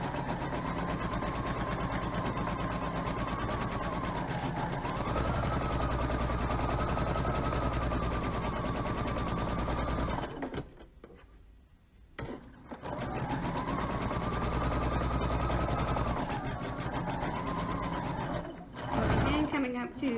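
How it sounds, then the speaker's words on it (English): A sewing machine runs steadily while stitching a memory pillow, a loud continuous mechanical whir that pauses briefly near the middle before resuming, with a speaking voice partly under it. "now you can see as I'm stitching"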